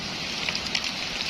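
Rain falls by a river, a soft, steady hiss of drops spread evenly across the moment, faint and continuous with no talking.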